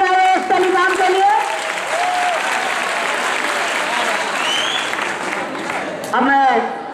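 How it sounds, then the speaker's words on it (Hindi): Loud, sustained applause from a crowd at a prize distribution function, filling the whole stretch, with a swell of clapping again near the end. "जोरदार तालियां एक टेलीकॉम के लिए।"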